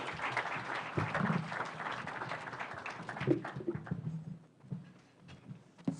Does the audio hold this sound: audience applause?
yes